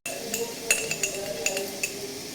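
A spoon stirs coffee in a cup in a home kitchen, giving a string of light, bright clinks against the cup over a steady background hum.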